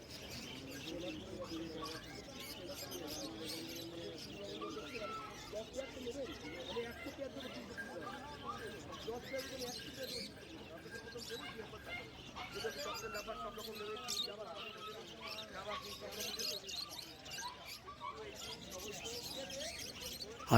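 Birds and pigeons coo and chirp at the Shyambazar bird market in the early morning, their calls mixed into a busy background of nearby voices and market bustle.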